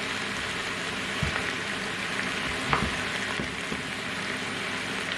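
Chopped onions fry in a pan for a rabbit stew with tomato and vegetables, giving a steady, close sizzle with a few soft stirring knocks and no talking.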